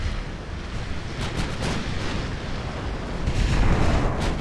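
Naval guns fire and shells explode in the warship game UA: Dreadnoughts, a continuous loud rumbling barrage with several sharp booms near the start and a heavier roaring swell toward the end.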